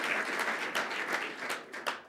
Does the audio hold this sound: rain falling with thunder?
no